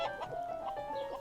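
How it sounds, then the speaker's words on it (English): Chickens on a farm give soft clucks and a brief drawn-out call, close by and short, with no talk over them. "we better go and see the chickens then"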